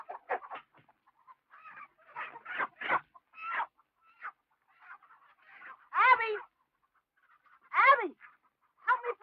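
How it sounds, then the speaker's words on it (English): A rooster in an old Western setting, with repeated clucks and squawking calls in short uneven bursts, some rising into sharper cries, fairly close and clear with quiet gaps between them. "Help me find that rooster."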